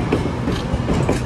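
A six-car GO commuter train at Toronto Union Station rumbles close by, with a steady clatter of rail cars and rhythmic wheel thumps filling the short moment.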